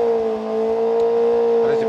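A Suzuki GSX 1000 motorbike in an open unlimited drag race final holds a loud, steady, high-pitched rev. Speech is heard over the engine in this brief clip, with the engine tone staying constant throughout.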